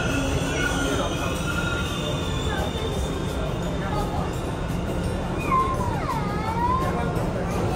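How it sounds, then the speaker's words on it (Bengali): A subway train rolls into a platform near Battery Park in New York with a steady loud rumble. High wheel squeals rise and bend in pitch toward the end, and faint voices sound in the background. "এখানেও চলে আসবে ট্রেন এখানে"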